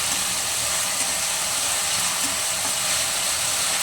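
Ginger, garlic and green chilli paste fries gently in oil in a pan, a steady, even sizzling hiss that holds unbroken throughout with no voices over it.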